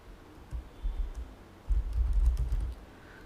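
Typing on a computer keyboard while entering a name into Oracle VirtualBox: close, soft clicks in a short burst, a pause, then a denser second burst of keystrokes, with no talking.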